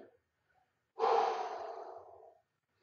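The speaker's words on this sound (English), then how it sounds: "we're breathing" A single long exhale during a plank hold in a strength workout, close and breathy, starting loud and fading over about a second and a half, with quiet before it.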